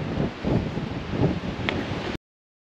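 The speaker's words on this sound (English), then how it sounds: "it's really fairly windy, and that has picked up recently" Strong wind gusting outdoors on a track, buffeting the microphone as a steady, loud roar with broad surges for about two seconds before cutting off, with no talk.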